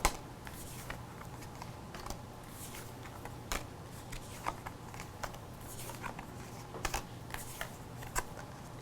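Soft, scattered riffling and tapping of tarot cards being shuffled up close, quiet irregular flicks with no talking.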